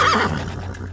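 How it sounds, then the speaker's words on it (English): A cartoon horse in an animated children's picture-book read-aloud gives a single loud, close whinny that rises and then trails off, with no talk over it. "I see a blue horse looking at me."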